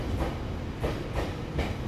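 A four-car local train rolls into platform 5 at Sendai Station, its wheels clicking rhythmically over rail joints in a steady, moderately close rumble with no talk.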